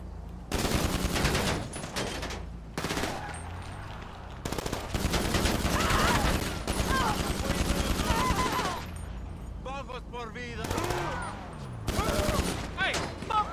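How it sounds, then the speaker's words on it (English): Rapid automatic gunfire in the video game GTA 5 Online, loud bursts of machine-gun fire in several long volleys separated by short gaps, with a voice talking in between. "Oh, that was some shooting."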